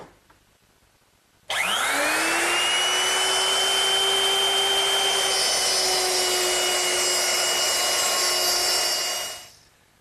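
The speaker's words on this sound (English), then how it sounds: "I've set it up in my router with this guide fence, which controls the width of the cut" A router fitted with a guide fence starts up and cuts a mortise in wood, a loud steady high whine that spins up sharply, holds for about eight seconds close by, then winds down, with no talk.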